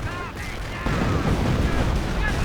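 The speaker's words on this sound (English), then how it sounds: "And a heavy rocket barrage going in." A heavy rocket barrage in a WWII strategy video game comes as a dense, continuous roar of overlapping blasts and rumbling booms. It grows louder partway through, and faint shrieking streaks run over the din.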